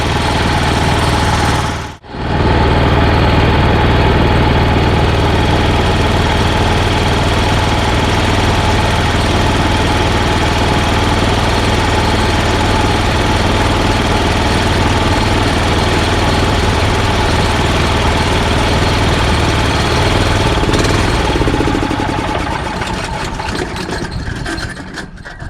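A Honda HS520 single-stage snowblower with a 5 hp engine and 21-inch auger runs nearby at a loud, steady drone. The engine barely dips near the start and holds an even, continuous hum that tapers slightly at the end.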